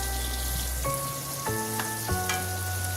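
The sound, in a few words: onion sautéing in a pan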